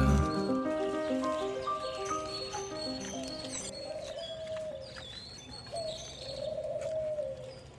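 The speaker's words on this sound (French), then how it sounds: "maintenant, voilà ces connes de tourterelles" Turtle doves coo in soft, repeated low calls, with other birds chirping thinly around them. A brief tonal sound opens the scene before the cooing settles in at moderate distance.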